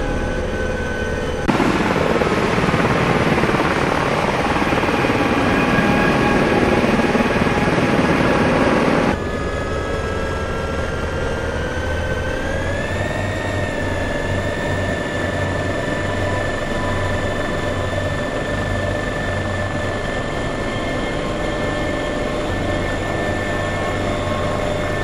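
An EC135 rescue helicopter of the DRF, carrying a patient, flies with a loud, steady rotor and turbine drone heard from inside the cabin. A louder burst of engine noise comes early, then the tone shifts slightly.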